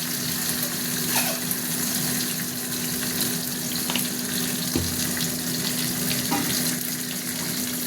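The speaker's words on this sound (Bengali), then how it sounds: "মাছটা ভাজা হতে থাক।" Sardines frying in oil in a wok, a continuous dense crackling sizzle at moderate level with occasional sharper pops.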